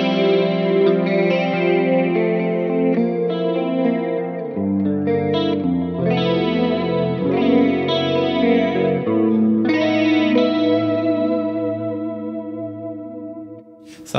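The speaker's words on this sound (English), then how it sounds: "this is the chorus patch without the acoustic sim" Electric guitar played through a Helix modeler's chorus patch with no acoustic simulation, mid-range focused, with chorus shimmer and echo. Sustained chords and melodic lines ring out steadily and loud for the whole stretch, no voices.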